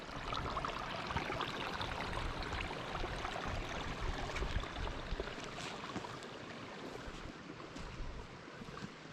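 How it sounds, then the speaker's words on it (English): Heavy water rushing and pouring off a hillside in the Scottish wilderness, a loud, continuous broadband roar that stays close and steady throughout, with no voices. "the amount of water constantly running off this hill"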